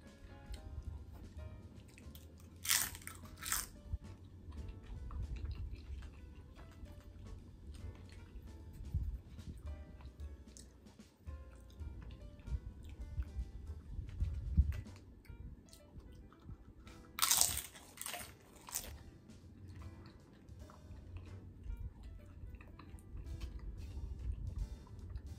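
Crunchy chewing of Buffalo Wild Wings chicken wings during a mukbang, with two loud, sharp crunching bites standing out above softer, steady mouth sounds, close to the mic and with no talking.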